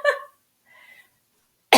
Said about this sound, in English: This cough has been hanging on.